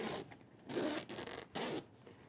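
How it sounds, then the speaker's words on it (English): A zipper on a sewn fabric pouch being unzipped in three quick rasping pulls, close and quiet with short pauses between strokes. "let me show you what it looks like unzipped"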